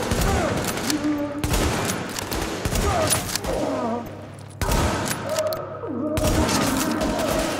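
Gunfire in The Division, bursts of dense shots and thuds that keep going across the stretch, with players talking over the shooting.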